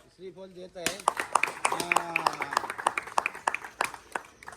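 At a gully cricket gathering, a group claps hands quickly and unevenly, starting close and fairly loud after a short spoken call, with voices chattering over the claps.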